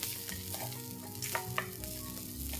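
Chopped cashew nuts frying in a pan with a steady loud sizzle, a spoon stirring through them with scraping taps against the metal, close and continuous.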